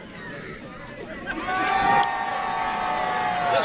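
A wrestling crowd at a brewery show cheering, a broad roar of voices that swells partway through and stays loud, with whistles and shouts rising above it.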